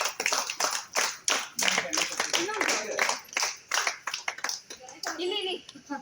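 Children clapping for a prize winner at a neighbourhood Ganesha festival prize-giving, bursts of scattered, uneven clapping close by, mixed with an adult's announcing and children's chatter.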